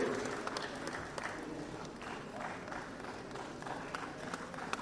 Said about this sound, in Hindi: आपकी जोरदार तालियों का उत्साहवर्धन इन बाल कलाकारों के लिए